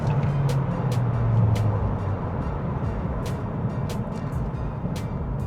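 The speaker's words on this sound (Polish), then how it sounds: "No i teraz auto robi się żwawe." A JAC J7plus accelerates in sport mode in third gear, heard from the cabin as a steady low engine drone with faint periodic clicks over it.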